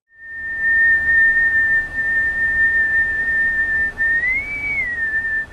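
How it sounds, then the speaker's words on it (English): One person whistles a single steady, pure note held for about five seconds, close and clear, with a brief upward bend near the end. "When you're whistling, the air rushes through"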